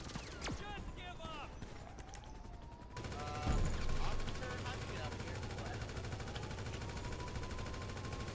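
Rapid AK rifle bursts in an online shooter game, dense fusillade crackle running through the whole stretch with a louder burst in the middle, while a player talks over it.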